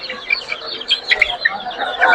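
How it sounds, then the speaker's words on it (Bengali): A rooster and hen cluck in short, uneven bursts at a busy bird market, close and fairly loud, with some faint background activity. "এই যে এটা হচ্ছে মোরগ এটা হচ্ছে মুরগি"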